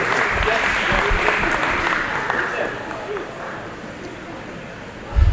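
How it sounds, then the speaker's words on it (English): Sustained applause from an audience at a school farewell event, honoring teachers and families: loud, even clapping that thins out toward the end before a brief bump at the close. "Let's give a big round of applause to teachers and families for their support."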